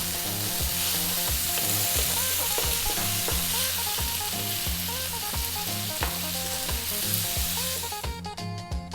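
Spaghetti sizzles continuously in a frying pan as it is stirred, a constant crackling fry with scraping movements, set against a rhythmic musical background and without anyone speaking.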